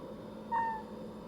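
A cat gives one short, soft whimper, a brief thin tonal cry lasting about a quarter second, close by in a quiet room with faint background hiss.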